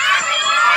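A group of children at a seventh birthday party shout together at full voice in one loud, sustained burst, packed with bright, high-pitched, overlapping voices.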